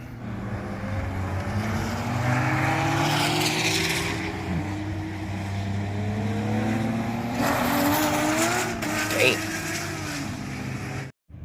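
Race cars, including a mid-engine Corvette running with a pack of Porsches, roar around the Laguna Seca track in a steady, loud engine drone with shifting pitch and passing surges, a brief dropout near the end.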